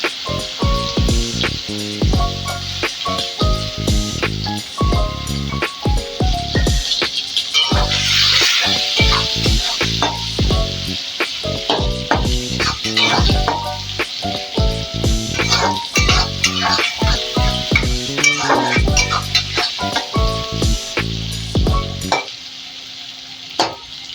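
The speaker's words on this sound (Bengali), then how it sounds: "আমি তেলের মধ্যেই পেঁয়াজ কষানো দিয়ে দেবো" Onions frying in oil in a pan for a river tengra fish dish, a loud continuous sizzle broken by dense, rhythmic scraping stirs throughout, fading slightly at the very end.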